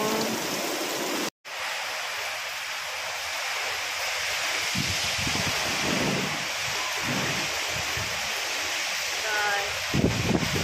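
Heavy rain pours and wind roars nonstop during Super Typhoon Uwan, a loud broadband rush that cuts out for a split second, with faint voices surfacing underneath.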